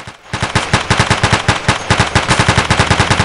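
A machine gun fires in the video game Battlefield 2, a loud, rapid, steady stream of evenly spaced shots that continues with only a brief pause near the start.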